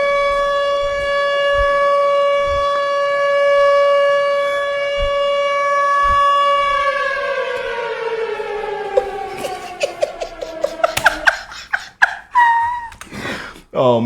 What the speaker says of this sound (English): Come on, sirens.